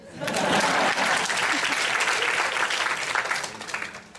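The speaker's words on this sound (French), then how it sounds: "bravo, applaudissez." An audience at a French-language talk breaks into applause: dense, continuous clapping that swells quickly, stays full for several seconds, then tapers slightly.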